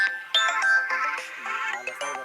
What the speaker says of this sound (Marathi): साहेबांचा फोन